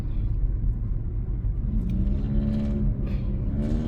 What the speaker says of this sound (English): That's a small car to have such a loud engine.